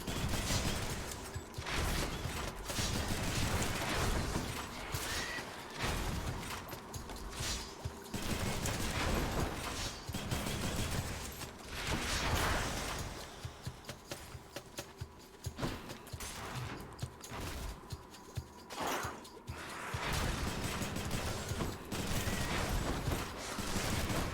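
Gunfire rattles in the action video game Hades as a fighter battles giant rats, with dense bursts of rapid shots, crashes and clattering effects over a busy game soundtrack, continuous for around twenty seconds.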